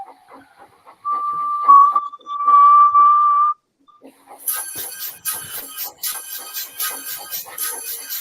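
A steam train whistle from Ghost Train II gives two sustained loud blasts in a row. A busy, hissing rhythmic clatter follows, with no talk.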